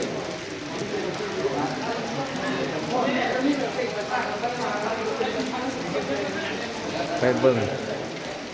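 Steady rain falls outdoors at a visited site in Vietnam, a continuous dense patter and hiss throughout, with a voice speaking over it.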